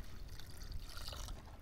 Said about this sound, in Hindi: तो चलिए इसमें डाल देंगे मसाला का पानी।